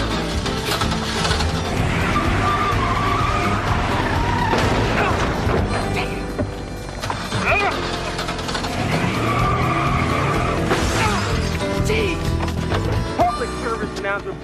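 A car skids and races in a TV drama scene, tires squealing in loud sweeping bursts over engine roar and crashing effects, with a musical score and brief voices in the mix.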